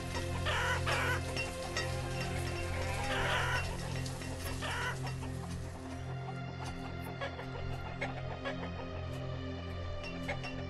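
Chickens cluck in the video game Banished, a steady run of short clucks under a continuous layer of ambient game sound, with no voices.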